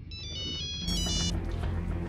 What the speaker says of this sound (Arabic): رؤوف بيه على التليفون عايزك